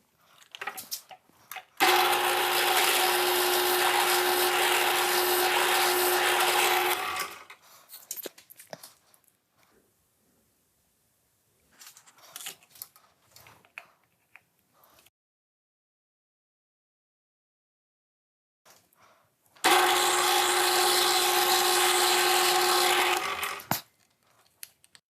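A drill bores out a router insert in two loud, sustained bursts of high whine, separated by quiet handling clatter and small knocks.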